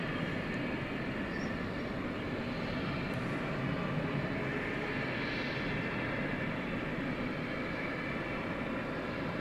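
A cargo aircraft taxiing between runways 18 right and 18 left at DFW Airport at night produces a steady, broad engine whine and rumble from middle distance, constant and without talk.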